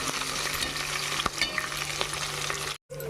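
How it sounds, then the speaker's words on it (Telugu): Green chillies and salted chillies fry in hot oil with a steady, dense sizzle and crackle, a few stirring knocks and small pops, cutting briefly to near silence before the sizzle resumes at the end. "కొంచెం గోల్డ్ కలర్ వచ్చిందాక మనం మంచిగా ఫ్రై చేసుకుందాం."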